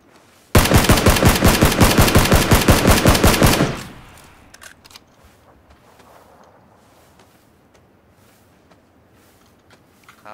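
In PUBG, a close, loud burst of rapid automatic rifle fire rattles evenly for about three seconds, then stops abruptly, leaving faint rustling and footsteps.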